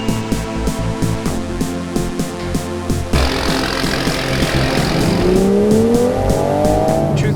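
A tuned Toyota Supra accelerates hard, its engine revving loud and close with rising pitch through the gears after a rhythmic idle burble.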